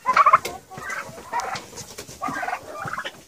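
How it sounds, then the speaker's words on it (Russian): A flock of young turkeys, about seven to eight weeks old, gobbling in repeated bursts, with gruff, bark-like calls close by. "я не знала, что индюки лают. Как собаки иногда. Такой звук, прям индюшиный лай."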